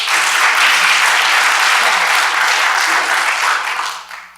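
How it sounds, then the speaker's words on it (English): Audience at an evening talk event applauding, dense and loud sustained clapping that holds steady for several seconds before thinning out and tapering near the end. "Y'all clapping for yourselves though"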